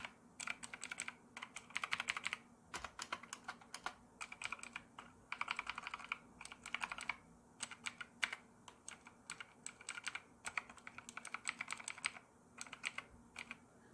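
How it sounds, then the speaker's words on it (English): A keyboard with mechanical blue switches typed in quick, uneven bursts of sharp clicky keystrokes, close and crisp with short pauses between runs. There is no talk. "mechanical blue switches, which kind of sound like this."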